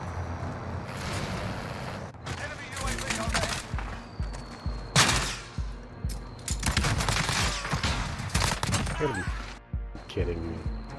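Gunfire in the Warzone video game, with repeated bursts and sharp shots scattered through a busy mix of game noise, fairly loud and continuous under ongoing talk from players.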